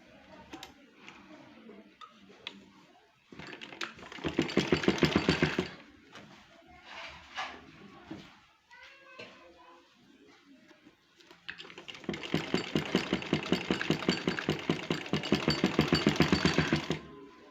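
A sewing machine stitches along a kurti neckline in two loud sustained runs of rapid needle chatter, separated by quieter handling and fabric shuffling.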